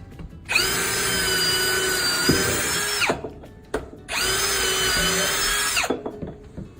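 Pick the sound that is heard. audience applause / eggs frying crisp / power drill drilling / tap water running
power drill drilling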